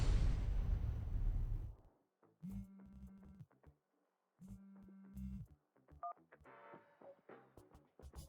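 Telephone keypad tones on a call to a company boss in a tense drama scene, a few short electronic beeps in two bursts after a loud opening rumble, with faint background sounds between them.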